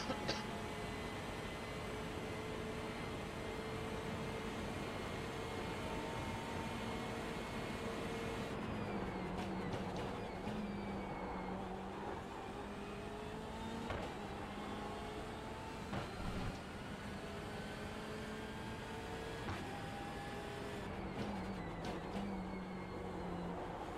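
BMW M8 IMSA race car engine on the Mount Panorama circuit at Bathurst in the iRacing game, a continuous engine drone with rising and falling revs and gear changes, fairly quiet and steady throughout.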